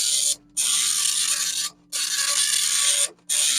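A Commodore CBM 1526 dot matrix printer, revision 05, prints in three loud, buzzing passes of the print head. Each pass is split by a brief quiet pause as the carriage reverses, and the rhythm is steady.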